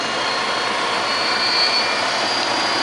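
A washing machine drum spinning at about 2000 RPM with its belt removed, a steady loud broadband whoosh and whine holding constant throughout, with a faint high tone and no voices.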